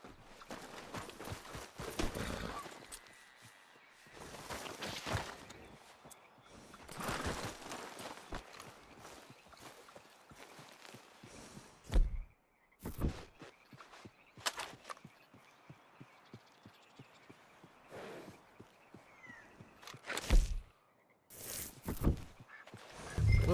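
Horse hooves clip-clop steadily while riding in Red Dead Redemption 2, a soft repeating thud pattern at moderate distance, with occasional louder knocks and brief gaps, no talk over it.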